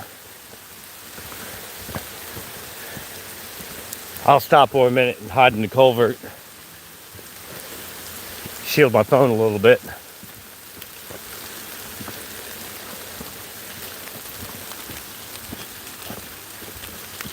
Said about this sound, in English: it was raining down on me really good